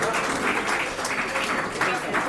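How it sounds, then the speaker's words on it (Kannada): A crowd claps during the results announcement at a Bangalore loft tournament: dense, steady applause that stays close and loud for the whole stretch, with voices mixed in. "ಹೊಡೀರಿ ಸರ್, ಚಪ್ಪಾಳೆ ಹೊಡೀರಿ"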